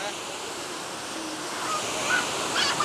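A water fountain in a park at VDNKh in Moscow in summer splashes in a continuous hissing rush, steady and fairly close, with a few faint brighter splashes toward the end.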